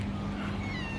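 A stray cat with a clipped ear meows in a quiet residential neighborhood, a single drawn-out call close by, with a steady low hum underneath.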